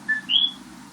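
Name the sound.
bird chirping in the background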